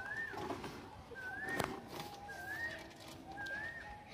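Pigeons coo in a repeated, soft rising pattern against a hum of background noise, with faint voices nearby.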